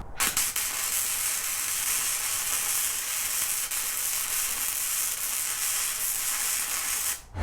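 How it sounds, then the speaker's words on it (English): A Bun Trail arc welder lays a weld for about seven seconds. The arc gives a continuous, close, crackling buzz that starts and stops abruptly. "let's see if I can weld better, being able to see better the welding pool"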